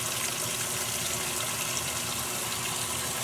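Water from an RV tap runs into a sink at full pressure, a steady, loud, close-up gushing rush with no pauses and no talking.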